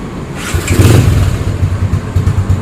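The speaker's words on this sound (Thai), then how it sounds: "เราไปลองฟังเสียงเครื่องกันนะครับ" A Yamaha Spark 135 motorcycle fitted with a 60 mm ceramic cylinder and a modified head runs close by, its loud engine chugging in a steady pulsing rhythm with slight rises in revs.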